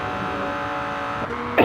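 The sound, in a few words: loud Lamborghini Murcielago car engine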